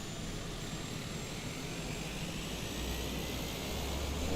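A steady broadband roar of an aircraft engine in the video game Microsoft Flight Simulator 2020, preparing for takeoff, constant and fairly faint, swelling slightly toward the end.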